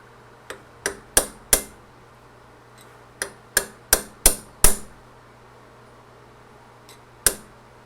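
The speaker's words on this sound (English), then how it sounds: "And then we'll use our little hammer" A small hammer taps a metal drift punch in a quick series of sharp ringing strikes while rebuilding the carburetors of a 1961 Chevy Corvair Monza 900, pausing briefly, then a few more taps and one last hit, over faint background hum.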